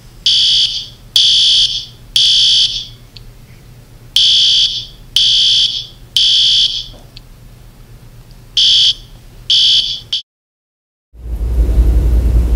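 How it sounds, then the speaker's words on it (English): A fire alarm sounds in loud, piercing electronic bursts, about eight pulses in an uneven rhythm, then a moment of silence before a low rumble. "It's a fire alarm."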